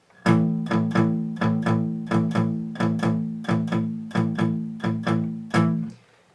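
Palm-muted power chords on an electric guitar, played by hand with the palm resting on the bridge, sound as a steady series of about a dozen short, clipped chugs in an even rhythm. They are close and clear and stand alone, with no voice.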